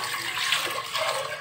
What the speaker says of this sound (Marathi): इथे मी भातासाठी एक पातेलं ठेवलं आहे, त्यामध्ये मी हे 3 ग्लास पाणी टाकत आहे